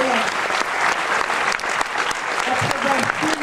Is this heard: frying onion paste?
no